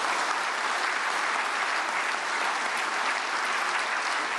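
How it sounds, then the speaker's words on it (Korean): Sustained, dense applause from an indoor audience at a prayer meeting for peaceful unification, welcoming a speaker, with steady clapping at even volume throughout and no voices. "박수로 환영하시겠습니다"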